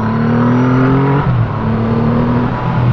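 A 2020 Triumph Rocket 3 R motorcycle engine pulls hard under acceleration, its loud steady roar rising in pitch twice, near and continuous with no talk.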